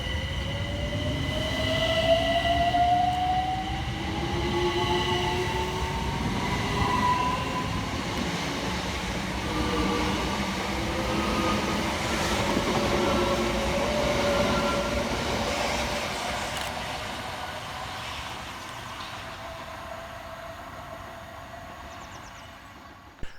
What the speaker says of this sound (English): kicking us off is 376006 and 376002, working the 1458 Southeastern service from Hayes through to London Charing Cross